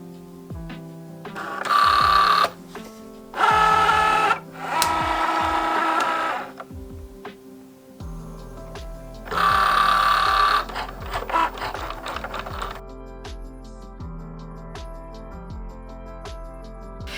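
A craft cutting machine cuts material for Christmas crackers in loud bursts of motor whirring that stop and start, with clicks and softer mechanical movement between them and no talking.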